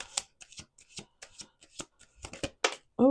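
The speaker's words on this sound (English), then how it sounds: "Okay, 1 last shuffle." Tarot deck shuffled at close range, a string of sharp papery flicks and riffles at an uneven pace, with a brief burst of voice at the very end.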